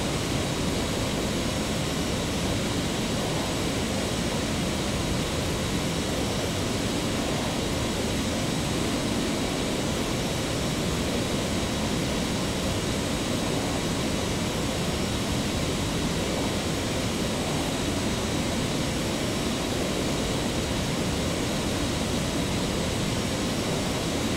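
Broadband jet roar from an American Airlines airliner taking off on runway 22 right at Boston Logan airport, a steady loud rumble holding for the whole stretch with no voices.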